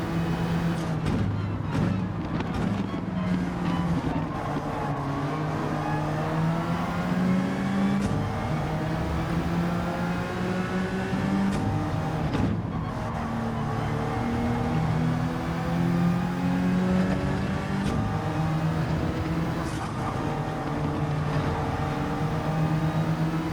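A race car engine on the straight at Laguna Seca, running on soft tires, drones loud and close with rising pitch sweeps as it accelerates through gears, steady and continuous with no voices.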